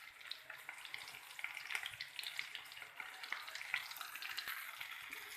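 Chicken tikka pieces coated in masala frying in a pan, a steady soft sizzle with faint scattered crackles that holds evenly from start to finish and has no voices over it.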